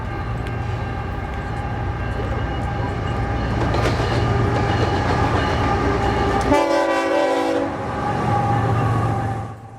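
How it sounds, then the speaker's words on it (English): A BNSF freight train rumbles past nearby with a heavy engine drone, then its horn blares loudly for a second before the rumble continues and fades. "shortly after that, our first BNSF train arrived."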